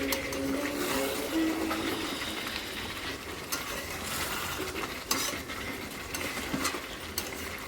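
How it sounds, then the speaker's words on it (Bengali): Chicken curry being stirred and sautéed in a pan until the oil separates, with steady sizzling broken by scraping and clinks of a spoon against the pan, close and moderately loud, with no talking. "ভালো করে কষাতে হবে।"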